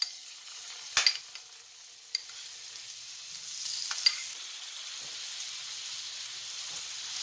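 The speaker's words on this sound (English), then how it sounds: "Now I'm gonna go in with the rest of the butter." Butter sizzles softly in a pan right after salmon steaks have been seared, a steady faint frying hiss broken by a few sharp clinks and stirring scrapes.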